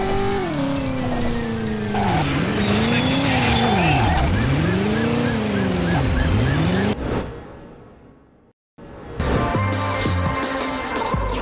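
Game car from the PS1 title Driver revs loudly with rising and falling engine tones and squealing tyres, then a harsh crash burst, a brief silence, and renewed clattering impact noise.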